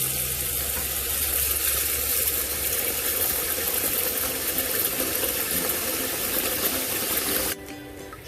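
Rice being rinsed with water in a pot at home while cooking a kale and okra soup lunch, a steady close splashing and swishing of water and grains that runs continuously before cutting off near the end.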